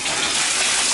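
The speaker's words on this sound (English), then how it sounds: "And there we go, that's the shower. And again, that's just the hot water" Hot water gushes from a shower and drains away, a loud, steady close-up rush with no voices.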